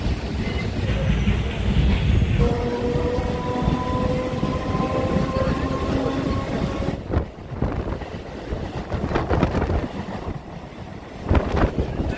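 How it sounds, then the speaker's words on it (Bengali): A Ranaghat to Sealdah local train pulls out of Ranaghat station with a loud continuous rumble and rattle, a whining tonal hum for several seconds, and heavy wind buffeting across the microphone as it gathers speed. "ট্রেন রানাঘাট স্টেশন ছেড়ে বেরিয়ে চলে এলো"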